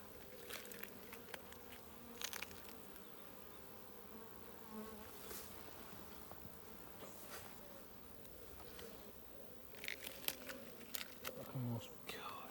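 Wasps buzz steadily around an open beehive, a continuous close insect drone with brief louder passes, while people talk quietly nearby.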